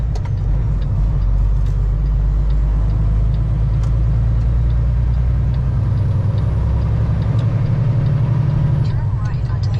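A truck's engine idling steadily after starting, a loud low rumble with a fast regular throb filling the whole stretch, as someone talks over it.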